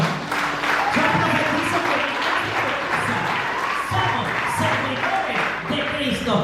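A church congregation breaks into sustained applause, a dense wash of many hands clapping that rises, dips briefly near the end and continues, with voices mingled in.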